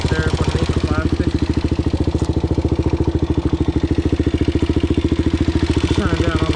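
Kawasaki KFX 400 ATV engine running at a steady idle, a loud, even rapid putter with mechanical clatter, continuous and close.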